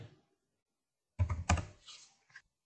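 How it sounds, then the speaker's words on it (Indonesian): Typing on a computer keyboard while building a flowchart: a quiet start, then a short burst of several close, quick key clicks in an uneven rhythm, with no talking. "Jadi bisa dalamnya Anda ketik eh, star atau bisa juga Anda ketik mulai ya. Jadi saya ketik saja mulai."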